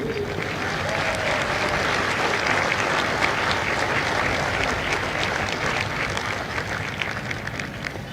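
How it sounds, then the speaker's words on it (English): Large audience at a Marine Corps recruit graduation at MCRD San Diego applauding the families of India Company, a dense steady roar of many hands clapping continuously with light crowd noise. "Please join me in a round of applause for the families of India Company."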